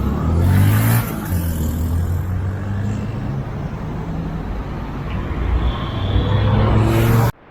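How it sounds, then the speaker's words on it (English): Cars pass through a busy city intersection in Puerto Vallarta, engines rumbling and swelling as vehicles cross close by from several directions, with a steady roar of traffic throughout. "Cars going by every direction."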